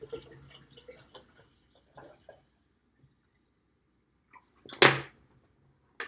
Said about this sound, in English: we're going to fill the rest of this up with spring water